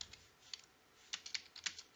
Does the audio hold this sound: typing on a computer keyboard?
yes